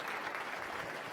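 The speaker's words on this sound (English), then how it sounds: "Give Yerin a round of applause" Audience applause at an end-of-year banquet, a steady, dense clapping from a crowd in a hall, continuous and even for the whole moment with no voices standing out.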